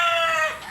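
Rooster crowing close by, a single loud, stretched harmonic call from a banded gamefowl stag on a farm, holding steady before tapering off at the end.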